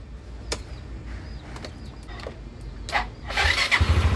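A Yamaha Mio MX125 scooter engine cranks and catches after its starter motor has been cleaned. Brief clicks are followed by a rising start that settles into a close, steady idle with no talk.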